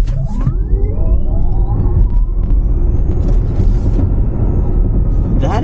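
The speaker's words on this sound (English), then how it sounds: "I'm gonna stop right here and launch this car one time because there's no one behind me." A 2022 Lucid Air electric car launching hard from a stop, a loud rising whine sweeping upward over heavy road and wind rumble as it accelerates, with brief voices in the cabin.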